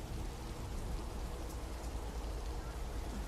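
Steady rain falls in a video game, a dense, constant hiss of drops spread evenly across the whole stretch with a low rumbling undertone, no pauses and no clear voices.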